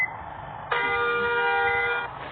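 A bus horn in a video game sounds one long, loud, steady honk lasting over a second, over faint background.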